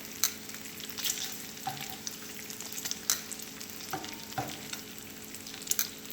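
Bacon strips sizzle and crackle in a frying pan, a steady close hiss dotted with sharp pops and a few utensil scrapes, with no voices.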